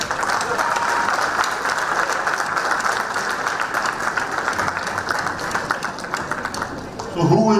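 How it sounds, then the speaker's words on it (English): Audience applause at a college alumni gathering in Pune, a steady wash of many hands clapping for about seven seconds before a voice comes in at the end. "Let's begin with a round of applause."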